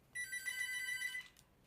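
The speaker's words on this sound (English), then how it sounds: "oh really, my house phone is ringing?" A house phone rings once indoors, a steady electronic trill lasting just over a second at moderate distance, alone against a quiet room.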